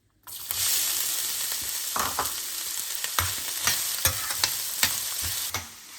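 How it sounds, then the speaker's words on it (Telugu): Chopped onions fry with whole garam masala in a pan for chicken fry, a steady close sizzle broken by repeated sharp scrapes and taps of a spoon stirring. "ఆనియన్స్ గోల్డెన్ కలర్ వచ్చేదాకా ఫ్రై చేసుకోవాలి"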